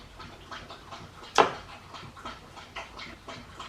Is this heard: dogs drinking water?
yes